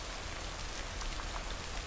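Rain falls in a video game scene, a soft, steady, even hiss of drops that continues unbroken and fairly quiet, with no voices.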